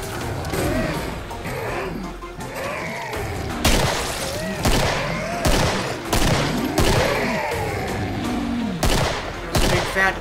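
Gunfire and explosions from the video game Killing Floor during a Christmas event: a dense, continuous stream of shots with several louder crashing bursts, under a spoken game voice.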